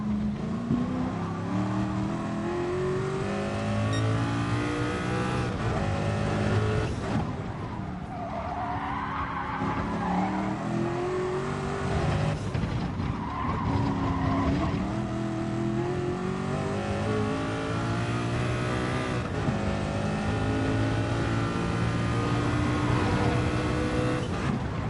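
A race car in third gear accelerates hard on the Nordschleife. The engine note climbs and swells, loud and close, throughout, with tyre noise mixed in.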